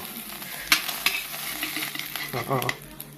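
A Thai omelette sizzles steadily in hot oil in a pan, with scraping stirs and a few clinks of a utensil close by.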